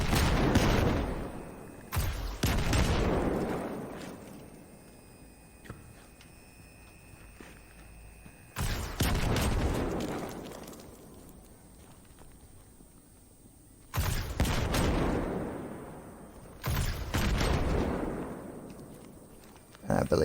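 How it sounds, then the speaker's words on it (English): Gunfire in a video game sets off grenades stuck to walls, producing several sharp, loud bursts of popping and crackling, each fading off over a few seconds, with quieter stretches between them. "if you shoot the little grenade part, they should all pop"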